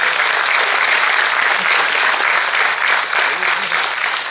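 Audience at a school tribute event applauds as speakers receive mementos, a loud, continuous roar of many hands clapping that holds steady throughout.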